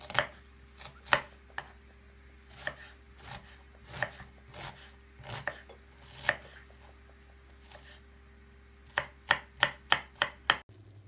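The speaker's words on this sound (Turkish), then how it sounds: "2 tane soğanımızı yemeklik doğrayalım." A knife chops onions steadily on a cutting board, with irregular single strikes followed by a quick run of cuts near the end.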